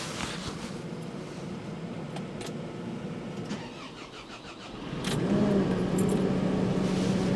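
A JCB 531-70 telehandler's diesel engine cranks with a starter whine and catches, then settles into a steady, close idle with a faint tonal hum over the last few seconds; no talking.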